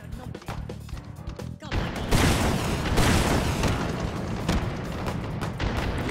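Rocket launcher explosions in the VR shooter Hot Dogs, Horseshoes & Hand Grenades, a burst of heavy booming blasts after a short quieter stretch, continuing as a loud rumbling barrage with talk in the background.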